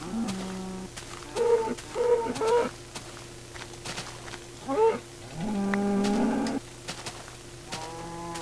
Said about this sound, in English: Oh, shut up, cow.